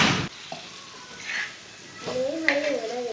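Green chilies tossed into sizzling tawa chicken, with a brief sharp clatter as they hit the pan, then a soft hiss and scraping stirring. A voice speaks briefly over the cooking.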